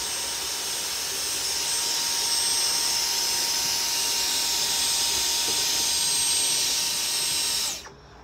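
A Dremel rotary tool whines at a constant high pitch while working on a layout, running loud and unbroken for several seconds before cutting off abruptly near the end.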